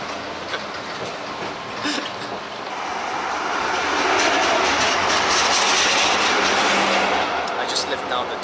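A tram rolls steadily through a forest in Sofia, Bulgaria, with a loud, constant rumble and hiss that swells in the middle, and faint rhythmic clatter from the rails.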